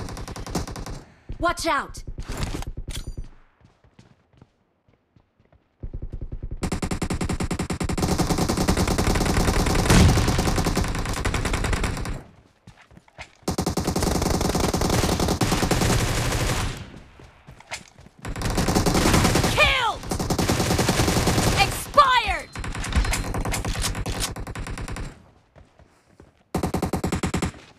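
A Groza assault rifle fires in a video game domination match, with rapid automatic bursts separated by silent gaps and sharp cracks up close. A brief shouted voice callout cuts in.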